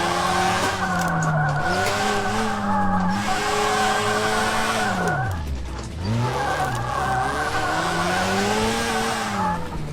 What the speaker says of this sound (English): Bit of third gear slides and it works a lot better.